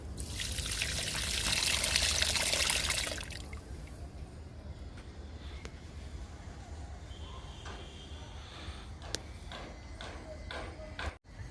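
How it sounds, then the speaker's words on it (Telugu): Liquid fertilizer splashes and trickles onto an adenium plant for a few seconds, then fades to quiet small knocks and movements nearby. "ఎడేనియం ఒకటి ఇస్తున్నాను లిక్విడ్"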